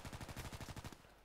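Rapid gunfire in a sniper video game, a dense burst of about a dozen loud, evenly spaced shots that stops abruptly, leaving a short quiet tail.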